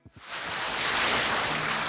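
Loud, steady roar of rushing river water where the Alaknanda and Bhagirathi meet at Devprayag, a continuous broadband wash that swells in after a brief onset and holds alone without speech.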